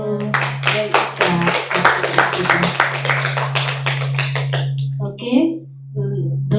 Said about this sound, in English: So you give applause to Eka.